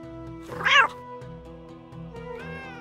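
A cat meows loudly from inside a bag in the Egyptian adventure game Ankh: Heart of Osiris, one strained yowl near the start and a softer meow at the end, over a steady hum of game music.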